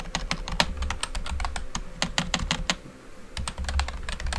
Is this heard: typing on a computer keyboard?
yes